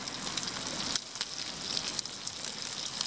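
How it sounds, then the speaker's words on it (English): Bacon sizzles in a non-stick pan alongside eggs, a steady hiss crackling with small pops, fairly faint and heard without talk. "And the bit of bacon that I've got left. Oh, that's sizzling away nicely now."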